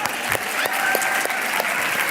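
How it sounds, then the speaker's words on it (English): A room full of people breaks into a steady round of applause for a woman invited up at a mindfulness talk, dense clapping that carries on evenly without a break. "Give her a round of applause."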